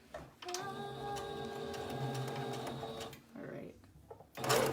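A sewing machine runs steadily for about three seconds with a whirring hum and a stack of harmonic tones, then stops. Brief speech is heard before and after it.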